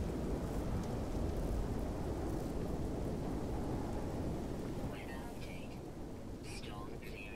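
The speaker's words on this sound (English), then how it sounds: "Storm is not clearing, so this is going to take a moment here" A thunderstorm on an alien planet in the video game No Man's Sky roars as a dense wash of heavy rain and rumbling wind. It eases slightly partway through, with faint chirps appearing near the end.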